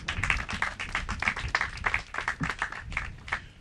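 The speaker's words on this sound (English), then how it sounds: "we think we need to give another round of applause to the gentleman here who facilitated that" Applause from the audience at a groundbreaking ceremony for an ADRA disaster warehouse in Nevis, a steady run of close, rhythmic claps repeating about three times a second with no voices over it.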